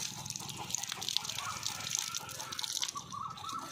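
Water splashes and gushes onto potted aloe vera and other plants in an evening household garden, a faint, continuous trickle with uneven bursts.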